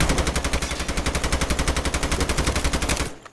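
Sustained automatic gunfire rings out in the mobile shooter Call of Duty Mobile. The rapid burst stays loud and evenly spaced for about three seconds, then cuts off abruptly.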